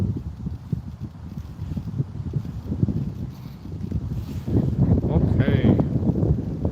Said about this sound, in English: Oh my gosh, this wind is ridiculous.